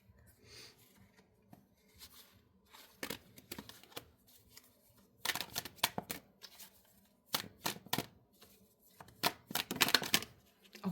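Tarot cards being shuffled and handled at close range in a quiet room: irregular soft riffles and sharper slapping bursts come in clusters, some louder than others, with faint talk in between.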